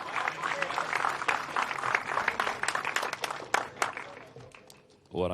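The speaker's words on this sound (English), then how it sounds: "big round of applause for Mini" Applause from spectators at a junior racing academy awards event, a burst of clapping and some crowd noise fading out before a voice comes back in at the end.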